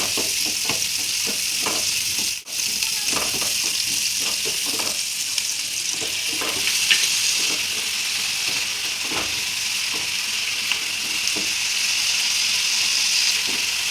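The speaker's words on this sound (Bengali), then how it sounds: "ক্যাপসিকাম কুচু এগুলো হালকা ভাজবো এটা লাল করে ভাজবো না চিকেন পেঁয়াজ হালকা করে ভাজবো" Chopped capsicum, chicken and onion fry lightly in a pan for a home pasta dish, giving a steady close sizzle with occasional stirring scrapes and clicks throughout.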